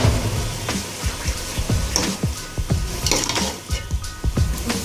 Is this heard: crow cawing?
no